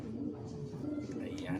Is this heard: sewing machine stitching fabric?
no